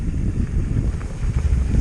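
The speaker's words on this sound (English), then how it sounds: "It's a little bit windy" Wind gusts outdoors on a mild, breezy day, a low rumbling buffet that pushes against the microphone in uneven surges throughout, loud and close with no voices.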